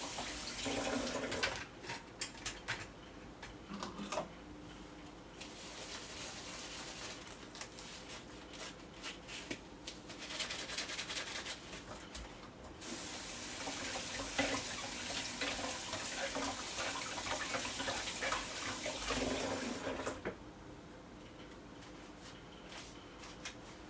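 Tap water runs while a pot is washed in a kitchen sink, a sustained gushing splash that swells and eases in long stretches, with brief pauses and clatter between runs.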